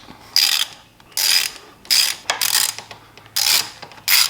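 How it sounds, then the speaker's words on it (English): A ratchet with an 8mm socket works loose the sprocket cover bolts on a motorcycle, clicking in six quick bursts of rapid pawl ticks separated by short pauses, close and clear with no talk. "I'll use an 8mm socket"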